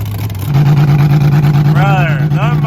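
A 1999 car's engine idles loudly up close, a steady low droning hum that thickens after a moment, with someone talking over it partway through.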